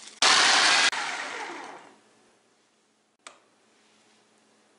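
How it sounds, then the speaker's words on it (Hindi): An electric grinder whirs loudly for under a second while grinding dry coriander powder and garam masala spices, then winds down and fades over about a second, followed by a brief click. "इनको ग्राइंड कर लेते हैं। इसको इसमें डाल के ग्राइंड कर लेते हैं"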